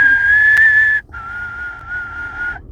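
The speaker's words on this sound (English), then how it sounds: "when that Big Bad Wolf starts whistling, it is terrifying." A movie villain, the Big Bad Wolf, whistles a clear, sustained tune, loud and close, with a brief pause near the middle before the melody continues on lower held notes.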